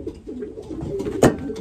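A quarantined racing pigeon cock, recently shipped in and flown in a race, gives a low cooing call near the microphone, rising to one louder burst late in the short stretch.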